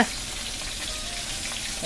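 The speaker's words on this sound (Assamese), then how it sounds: "এতিয়া এয়া কেৰাহীত পিঁয়াজ ঢালিছে, হেতা মাৰিছে" Steady, loud sizzling of onions frying in a hot wok, a continuous hiss with no talking.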